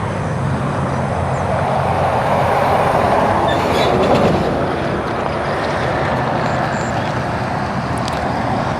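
A train rumbles steadily through a railway station area, a loud continuous roar of rolling wagons with faint clicking and squeals on top, close and sustained throughout.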